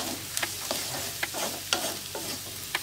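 Homemade pizza sauce of onion, garlic and tomato fries in a pan over a steady hiss of sizzling, with a spoon scraping and tapping the pan every half second or so, close up and with no talking.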